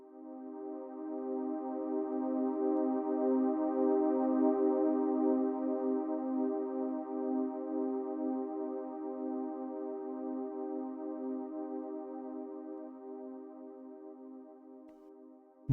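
A sustained pad synth patch from the Helm synthesizer swells in slowly, holding one steady, harmonically rich chord with a soft attack. It lingers evenly for about fifteen seconds, alone with no voices.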